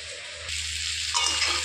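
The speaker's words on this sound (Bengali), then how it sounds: "আমি ফুলকপিটাও দিয়ে দিলাম, ভেজে রাখছিলাম ফুলকপিটা, ওই ফুলকপিটা দিয়েও একটু কষাই নিলাম।" Fried cauliflower sizzles as it is stirred and sautéed with spices in oil in a pan, a steady close frying hiss with a scrape of stirring.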